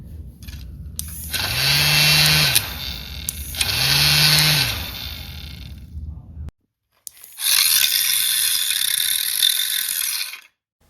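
A vacuum cleaner's fan motor, removed from the vacuum, whirs loudly in two long bursts, a mechanical rattling drone that pauses briefly, then runs again steadily without talk.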